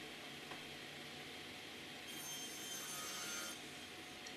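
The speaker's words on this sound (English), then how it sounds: "I start the project by first ripping down all of my plywood that I will need for the four cabinets that I am making." A table saw rips 18 mm Baltic birch plywood in a workshop with a steady, dense whirring and rasping cut that carries on throughout, slightly brighter partway through, with no talk.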